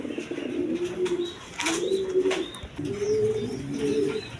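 A pair of Bombay pigeons, a male and a female, coo close by in repeated low rolling phrases, with a brief rustle and flutter between the calls.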